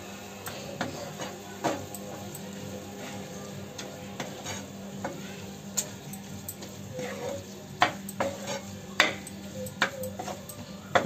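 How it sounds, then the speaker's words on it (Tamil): A spoon stirring masala spices in a pan for prawn gravy, giving soft scraping and irregular clinks over a faint sizzle. "எல்லா மசாலாவும் போட்டு மிக்ஸ் பண்ணிக்கலாம்."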